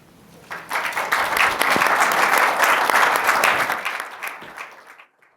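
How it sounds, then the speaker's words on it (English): An audience at a 2022 World Health Assembly conversation on vaccination breaks into applause for the speakers. The clapping rises quickly, stays full and steady for several seconds, then tapers off and stops. "let's give another round of applause to our two speakers"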